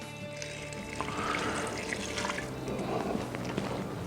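Salt brine, a tablespoon of salt dissolved in a litre of water, is poured over shredded cabbage for homemade sauerkraut, a quiet steady trickle and splash of liquid with a few small drips, heard close and alone.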